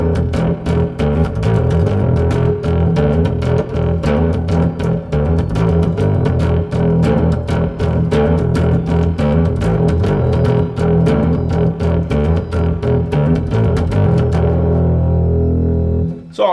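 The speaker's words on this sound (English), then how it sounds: "Way too much distortion, so we can go down with gain and get a little bit more attack." An electric guitar is played through a Valeton GP-200X multi-effects unit set to heavy distortion, with fast, dense picked riffs that ring loud and continuous before the final chord decays.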